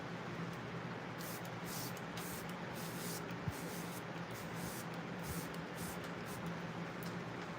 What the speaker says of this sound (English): Or a lot of setting spray.